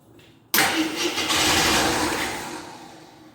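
A 1983 Scrambler motorcycle that has not run for years catches suddenly after a quiet moment. It roars loudly up close, then idles roughly and fades slightly over the next few seconds.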